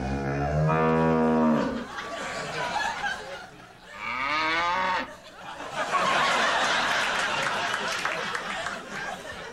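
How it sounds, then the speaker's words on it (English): A cow's drawn-out moos in a ventriloquist cow comedy act, voiced by a performer, sounding twice with rising harmonic bellows, followed by crowd chatter and laughter swelling behind. "Please welcome Voicy the Ventriloquist Cow"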